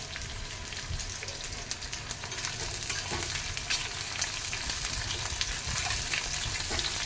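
Onion pieces and okra frying in a pan for a spicy onion curry, a steady close crackling sizzle with small pops and occasional stirring scrapes throughout, with no talking.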